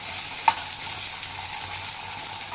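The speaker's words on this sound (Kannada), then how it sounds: "ಬಟಾಟಿ, ಆಲೂಗಡ್ಡೆ ಎಲ್ಲ ಇದ್ರಾಗ ಫ್ರೈ ಮಾಡ್ಕೊಂಡು ತೊಗೊಳ್ಳೋಣ" Potatoes fry in hot oil in a kadai, giving a steady, soft sizzle with one brief sharp tick near the start and no voices.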